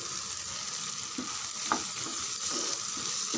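Green chillies sauté in hot oil in a pan, giving a continuous dense sizzle with soft stirring scrapes now and then, no voices.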